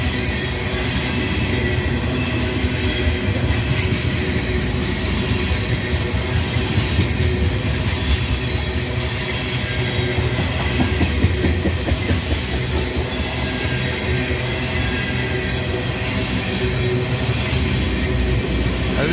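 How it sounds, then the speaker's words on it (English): A loaded freight train with corporate-owned cars rolls past near Abbeville, SC, a loud continuous rumble of wheels with faint clickety-clack and occasional squeal, sustained throughout, with no voices. "this is a loaded train"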